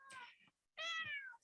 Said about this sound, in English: my cat is very friendly